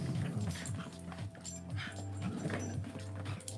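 Dogs play-fight on a person's lap, whimpering and whining in steady high-pitched cries with yips and snuffly growls mixed in, loud and close throughout.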